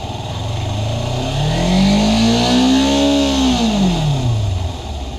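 A Kawasaki Versys X 300 motorcycle engine revs up smoothly and loudly, climbing in pitch, then winds back down in one steady sweep.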